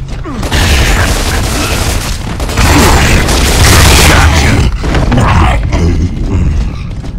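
Creatures blowing up in the video game Gears of War 2, a loud, sustained series of booming blasts and rumbling debris lasting several seconds with no pause.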